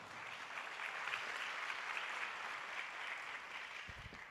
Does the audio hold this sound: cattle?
no